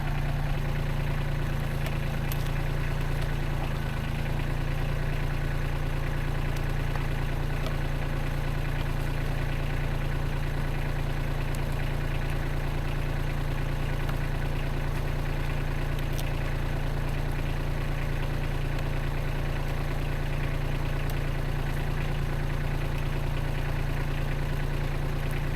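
A Kubota 2301 tractor idles steadily while pine is stacked in a woodyard, a constant loud diesel drone with a low hum running unchanged throughout.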